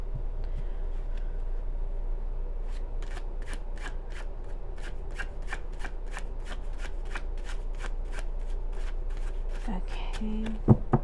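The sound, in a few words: shuffling tarot cards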